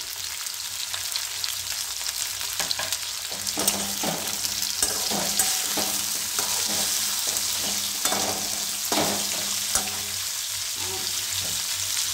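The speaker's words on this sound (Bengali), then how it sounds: "একটু নেড়ে নিই" Sweet corn curry with tinda sizzling steadily in a pan over the heat, with a spoon stirring and scraping through it at an irregular rhythm, close and clear, no voices.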